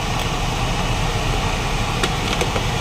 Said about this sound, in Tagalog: Naririnig nyo yung blower.